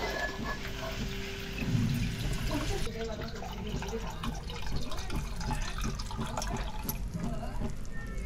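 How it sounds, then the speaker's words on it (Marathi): Water pours steadily into a cooking pot of tied mud crabs for a village-style crab recipe, making a continuous close rushing and splashing sound with no pauses. "तर बघा जरा पाणी टाकून घेऊया आता"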